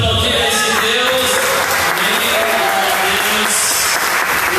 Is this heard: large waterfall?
no